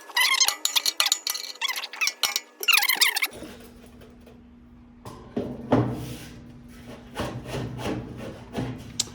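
A flathead screwdriver pries and bends thin metal on a Belavi steel fire pit, producing close scraping, creaking squeaks and rubbing metallic rasps in irregular bursts, with a low background hum later on.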